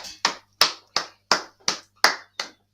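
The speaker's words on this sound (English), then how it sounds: "Clap it up." At the close of a class, about eight separate sharp hand claps ring out in a slow, even rhythm, crisp and close with silence between each, no talking.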